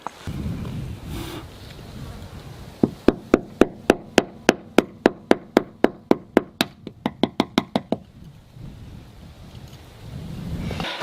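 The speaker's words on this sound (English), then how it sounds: "very gently I will knock it down with a hammer" A hammer taps a windscreen chrome trim clip on a Mercedes-Benz W126 about twenty times in a quick, even rhythm, close and loud, pausing briefly before a final faster run of lighter taps.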